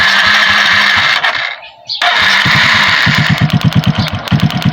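Suzuki Raider J115 Fi motorcycle engine on its stock ignition coil, cranking and catching with a brief cutout, then running in an uneven, sputtering, choppy rhythm of loud close pops.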